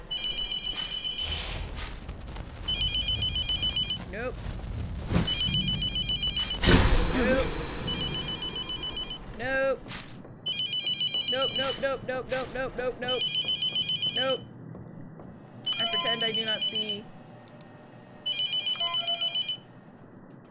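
Repeated phone ringtone from The Mortuary Assistant horror game, bursts of bright electronic ringing recurring in loud intervals, with a player talking over and between the rings.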